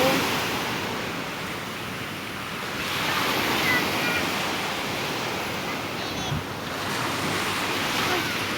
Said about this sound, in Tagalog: Maalon siya guys.